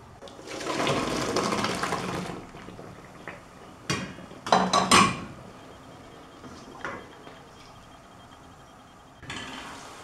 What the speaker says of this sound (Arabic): المقرونة طابت، وهاني توا باش نسقيها.